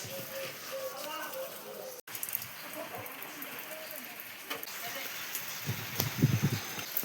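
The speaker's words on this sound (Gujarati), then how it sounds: "અત્યારે વરસાદ એટલો બધો નથી આવતો ખાસ, થોડો થોડો વરસાદ આવે છે" Light, steady drizzle patters over a village road with water pooled on it, a soft continuous hiss with scattered drops, while voices murmur faintly in the background.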